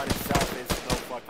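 Gunfire in Arma during a ShackTac squad operation: a rapid burst of several sharp, close shots in quick succession, some echoing, over about a second.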